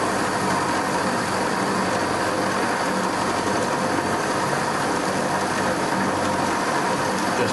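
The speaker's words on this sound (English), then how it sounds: "12mm cutter. I'm running at 700 RPM." A milling machine turns a 12mm cutter at 700 RPM with coolant running, giving a steady, close, unbroken mechanical grinding whir with a faint ratcheting texture and no pauses.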